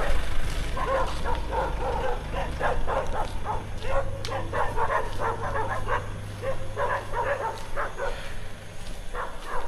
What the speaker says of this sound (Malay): Anjing agak banyak